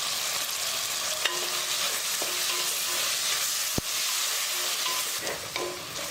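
Onions and tomatoes sauté in a pan for fenugreek kuzhambu, a steady close sizzle with soft stirring scrapes and one sharp tap near the middle, no talking.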